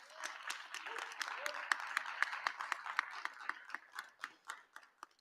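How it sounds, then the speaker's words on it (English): A convocation audience at a Black History Month rededication ceremony claps for the playwrights in a moderate, fairly distant burst that builds, then thins out into scattered claps before fading. A voice is faintly audible beneath it. "Please give the playwrights a round of applause."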